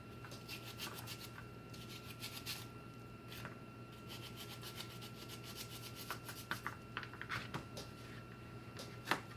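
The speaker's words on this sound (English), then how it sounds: "Just go ahead and give it a rough chop." Onions are roughly chopped with a knife, heard as a long run of quick, close, rhythmic scraping cuts that speed up and sharpen toward the end, with no talking.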